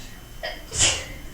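A single sharp sneeze, preceded by a quick intake of breath, close and fairly loud against a quiet background.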